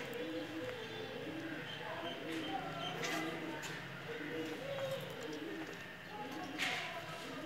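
Pigeons, a pair of picture-type fancy pigeons with a male, female and young, coo in repeated soft rounded phrases close by, steady and continuous over a faint background hum.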